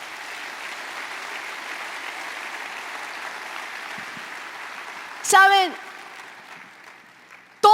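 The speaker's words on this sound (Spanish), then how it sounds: "Dale un fuerte aplauso a Jesús" A church congregation applauds for Jesus, a steady sustained clapping that fills most of the stretch before fading, followed by a voice speaking.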